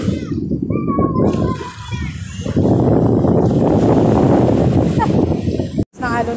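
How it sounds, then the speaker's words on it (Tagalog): Strong surf breaking on a tropical beach, a heavy continuous wash of waves that swells louder midway, with excited voices of adults and children talking over it. "Ay, lakas ng alon guys!"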